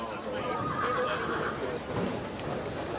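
A horse whinnies at a trotting horse sale, heard under an auctioneer-style voice speaking continuously, with faint hoof clip-clops and crowd background.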